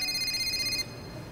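A telephone rings in an electronic trill, one bright burst lasting under a second before cutting off, close and clear over faint background hiss.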